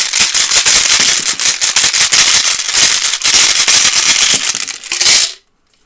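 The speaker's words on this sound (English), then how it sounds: "I'm going to go ahead and open the reading by casting some runes out of this mead horn" Runes cast out of a mead horn, a loud continuous clattering and rattling of many small pieces tumbling out together for about five seconds, then stopping abruptly into silence.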